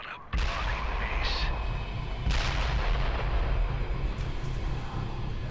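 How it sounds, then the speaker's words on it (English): Heavy explosions from a truck in the video game Dead Island burst out in two big booming blasts, each followed by a rumbling, crackling tail of debris and low rolling noise. "those explosions appear to have come from that truck"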